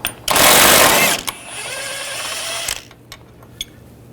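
A power ratchet or impact tool whirs in a loud burst, then runs more softly while removing a 13mm control arm bolt on a 2009-2017 Volkswagen Tiguan, ending with faint clicks.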